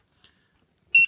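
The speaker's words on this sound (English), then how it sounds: "I just found the buzzer in my box and I thought, ooh." A single short electronic beep from a buzzer on a Nerf ammo counter, a bright tone lasting a moment at the very end after near silence.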